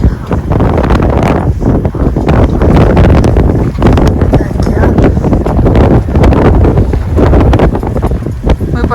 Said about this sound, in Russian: ветрено очень.